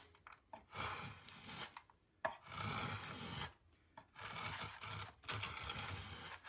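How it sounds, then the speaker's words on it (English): A sharp chisel pares down a new bass bar fitted inside a violin front, making repeated rasping, scraping strokes in short bursts with brief pauses between them, close and fairly quiet. "it really is nice sharp chisel and get in there and take it down to the line"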